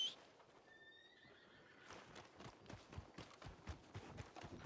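A horse in the Red Dead Redemption video game neighs near the start with a high whinny, then its hooves clip-clop steadily and close for the rest of the scene, with no talk.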